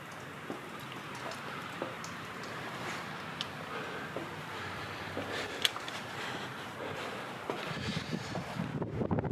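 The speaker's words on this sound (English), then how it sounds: "Oh, wow, it's windy." Soft, gusty wind buffeting outdoors near the entrance of Boyd Cave with scattered light ticks, building into a stronger low rumble of wind at the very end.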